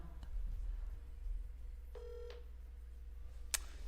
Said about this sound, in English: I don't know if you can hear that ringing